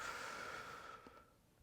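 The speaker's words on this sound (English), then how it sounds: "Am I breathing loud enough for you?" Heavy, steady exhaling during a bodyweight strength workout with hip mobility moves, a faint, drawn-out breath that fades away toward the end.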